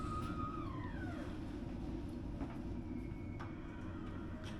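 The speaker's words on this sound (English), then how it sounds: "And a few moments later, we pull into the station." Train pulling into České Budějovice station, a steady low rumble of rolling wagons with a gliding, descending brake squeal and faint clicks, heard from on board with no talk.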